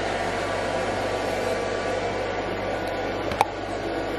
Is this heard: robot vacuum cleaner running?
yes